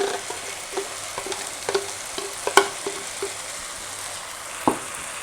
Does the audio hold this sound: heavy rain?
no